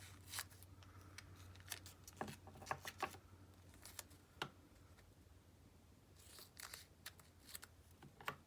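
Quiet, irregular snips of scissors cutting paper, some in quick clusters and others spaced apart, close and soft against a faint background hum.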